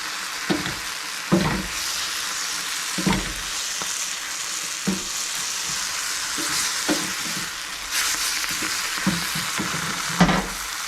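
Sardines and alugbati greens sautéing in a pan, a steady close sizzle broken by repeated sharp scrapes and clanks of a utensil stirring, with no talking.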